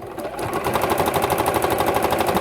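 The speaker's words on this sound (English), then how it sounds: "now you can turn it over, pull your binding up, and just sew your whole strap" A sewing machine sews the binding along a fabric mask strap, a close, loud, rapid rhythmic stitching chatter that runs continuously throughout.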